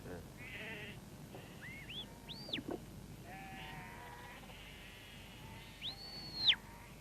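Sheep in a Scottish hill flock bleating faintly in the distance, a few short wavering calls spread out over quiet open-air background.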